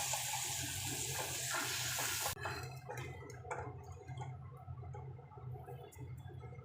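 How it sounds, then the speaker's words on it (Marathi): Water poured from a vessel into fried masala for misal, a loud continuous gush for about two seconds that stops abruptly, followed by sizzling and bubbling from the pan. "मसाला छान झाला की त्याच्यामध्ये पाणी टाकायचं."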